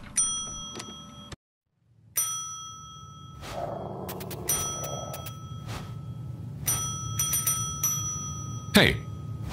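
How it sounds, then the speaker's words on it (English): A small bell rings twice in Postal 4, bright metallic dings with lingering ring, heard amid other chimes and clinks, with a brief silence and muffled room ambience between. "Ring the bell twice."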